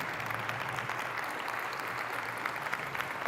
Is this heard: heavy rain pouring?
no